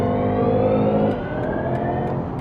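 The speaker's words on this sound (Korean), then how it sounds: "제가 아까 퍼스널 모드 때와 지금 스포츠 모드 때 악셀 밟는 소리가 다르게 느껴지셨죠?" A BMW 530e plug-in hybrid with a 190-horsepower engine accelerates in sport mode, giving a loud, close, rising tonal whine with layered harmonics that dips briefly midway and climbs again.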